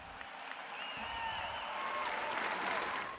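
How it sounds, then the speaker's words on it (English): Roaring applause from graduating peers after a valedictorian's speech at a graduation ceremony, a steady wash of clapping with some crowd noise that holds for about three seconds. "hearing the roaring applause from her peers"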